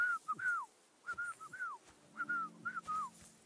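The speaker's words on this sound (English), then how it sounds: "Your whistling is getting on my fucking nerves the whole way." A character whistles a tune in the medieval video game Kingdom Come: Deliverance 2, short melodic phrases with gliding notes, clear and alone over a quiet background.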